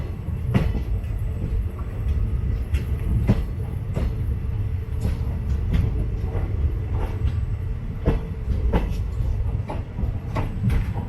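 An express special train on the Sengottai to Kollam line departs with a banker locomotive pushing at the rear, heard from inside as a low rumble with regular clickety-clack wheel beats over the rails.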